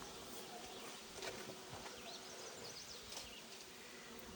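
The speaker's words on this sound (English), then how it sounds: "there's some bees that are emerging right now" Honey bees buzz softly around an open hive during a spring inspection, a faint continuous drone with a few brief louder passes and light rustling in the background.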